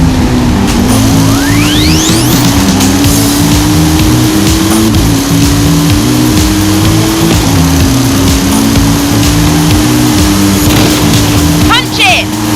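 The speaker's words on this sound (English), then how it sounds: "Punch it! Let's see the twin mill fly!" A Twin Mill car in Forza Horizon 5 drives and jumps, its engine holding a loud, steady drone that rises in pitch with small shifts as it accelerates, with brief whooshes and a rattle near the end.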